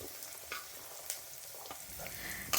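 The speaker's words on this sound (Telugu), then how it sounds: "బీరకాయ ముక్కలు వేసుకోవాలి" Ridge gourd pieces frying in a pan, a quiet steady sizzle broken by a few sharp clinks and scrapes, no talk over it.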